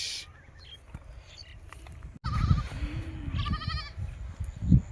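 Goats and young kids bleat in a grassy field among grazing cattle, several short, wavering calls at close to middle distance, mixed with rustling and light footsteps.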